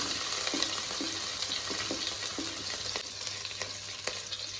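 Chopped garlic, ginger and green chili frying in hot coconut oil, a loud constant sizzle with regular stirring clinks and scrapes, close up and without speech.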